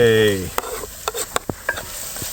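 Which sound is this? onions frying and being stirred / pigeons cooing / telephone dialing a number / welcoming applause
onions frying and being stirred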